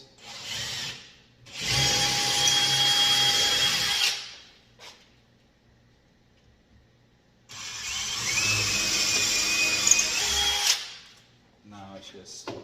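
A power drill whirs in two sustained bursts, each a few seconds long, boring 3/16 holes to mount a microwave vent bracket, close and loud, with brief handling noises between bursts.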